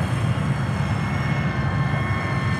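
Small electric propeller motor of a KFPLAN KF603 RC flying boat plane, a steady buzzing drone with broad airy noise, continuous and fairly close, flown outdoors in a picking-up wind.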